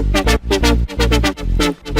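A synthesizer bass line with driven filter cutoff pulses in a steady rhythm under sustained chords, loud and full, with repeated punchy notes and no voices.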